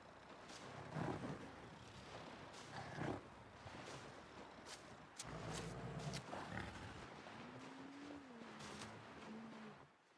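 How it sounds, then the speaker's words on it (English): A bear in The Long Dark survival game grunts and huffs while moving, giving low rumbling growls and breathy snorts over a steady outdoor wind-like background, with a few louder bursts and a short rising call near the end. "They have very heavy footsteps that can be heard from a fair distance, and constantly grunt and huff while moving"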